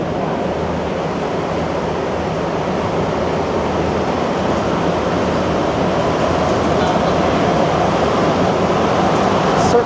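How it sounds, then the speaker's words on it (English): A Montreal Metro train runs fast on the line toward Angrignon, heard from inside the car as a loud, steady rumbling roar with rushing noise that holds without a break. "The trains are just flying along."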